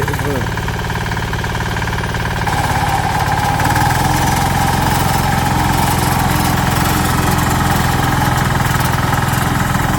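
Wheat reaper harvesting machine running in a field, a steady loud engine drone with mechanical clatter continuing throughout, close by and without a break.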